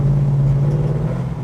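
A Holden HK sedan's motor idles steadily with no talk, a smooth, even low rumble that stays constant and close throughout, quiet and free of knocking.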